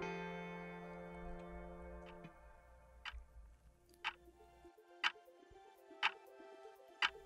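A clock ticks in a musical film, sharp evenly spaced clicks about once per second rising out of a fading sustained tone, with no other sound beneath them.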